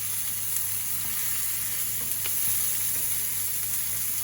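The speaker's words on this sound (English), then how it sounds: "I just love that sizzle noise." Steady, close sizzling of steak searing in a hot pan, a continuous crackling hiss with occasional small pops.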